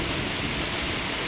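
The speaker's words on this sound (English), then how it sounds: "we drove right into the hard rain" Hard rain pounds a moving vehicle on a highway drive, a dense, steady roar of drumming drops and road wash that stays loud and unbroken throughout.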